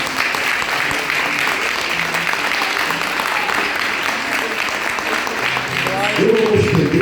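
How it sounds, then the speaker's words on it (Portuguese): A church congregation applauds during an evening worship service, dense steady clapping at full volume throughout, with a few voices and a brief low hum rising near the end. "dá uma linda salva de palmas para Jesus"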